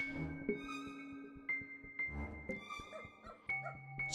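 A dog in the horror game Lakeview Cabin 2 gives several short barks and yips at intervals over quiet game sounds with steady tonal hums, fairly faint and without talking.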